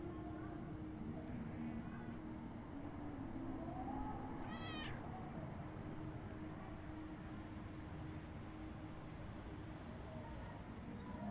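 A cat meows once in the Until Then video game, a short rising mew in the middle of a Christmas street scene, faint and distant under a steady ambient hum and a repeating high tone.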